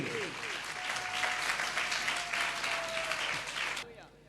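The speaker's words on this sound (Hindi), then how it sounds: "ताली बजाएं प्रभु के लिए।" A church congregation at a Friday meeting claps for the Lord, steady rhythmic group clapping with faint voices and a sustained tone beneath, before the clapping cuts off abruptly near the end.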